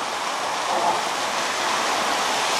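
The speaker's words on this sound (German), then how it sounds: "Noch ein kleiner Wasserfall." A small waterfall in Hardangerfjord, Norway, roars as a loud, steady, broadband rush of falling water, close by and continuous with no voices.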